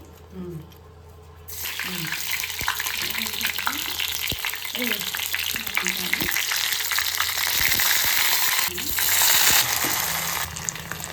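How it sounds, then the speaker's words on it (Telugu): Masala paste sizzling and frying in ghee in a pan for Rayalaseema pulao, a loud steady crackle that bursts in after a quiet opening second, with occasional stirring scrapes and faint talk underneath. "మసాలా పేస్ట్ కొంచెం ఫ్రై చేసుకోవాలి ఫ్రై చేసుకోవాలి కాసేపు పలావ్ కోసం"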